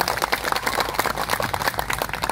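An audience of activists at an outdoor discussion in a parking lot breaks into dense, continuous clapping close by.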